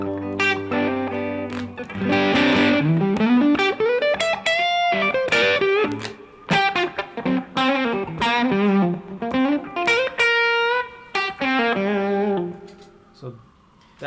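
An electric guitar plays through an amp's distorted channel, loud and gritty, mixing strummed chords, sliding melodic runs and sustained ringing notes with brief gaps between phrases.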